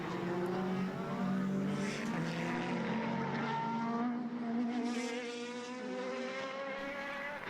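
Formula race cars, including a Formula Renault, race past on a track at a Formula BOSS Ireland race. Their high, buzzing engine notes overlap and swell as the cars pass, loud and continuous.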